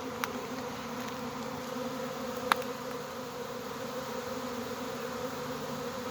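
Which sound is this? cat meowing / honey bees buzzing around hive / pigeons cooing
honey bees buzzing around hive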